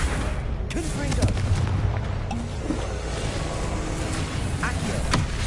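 Explosive Confringo spell blasts in the Hogwarts Legacy video game, a loud rumbling boom with crackling debris over dense, continuous combat noise.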